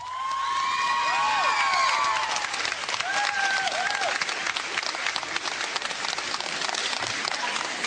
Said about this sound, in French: il reçoit beaucoup d'applaudissements